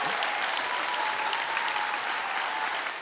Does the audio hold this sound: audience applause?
yes